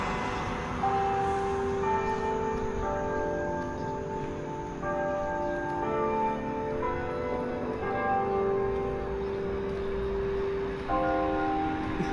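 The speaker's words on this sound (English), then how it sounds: "You can hear the church bells." Church bells ring out in rural Louisiana, a sustained series of tolling tones that overlap and linger at moderate distance over a steady background hum.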